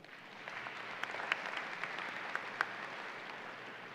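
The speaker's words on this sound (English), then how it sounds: "so give yourself a round of applause." Applause from a high school graduation audience, a faint, steady wash of many hands clapping at a distance with a few sharper individual claps standing out.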